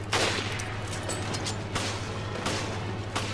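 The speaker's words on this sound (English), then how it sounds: "keep shooting it in the same spot, buddy" Repeated gunfire from shooting a boss in the co-op video game Resident Evil Revelations: a string of sharp shots at irregular intervals over a steady low hum.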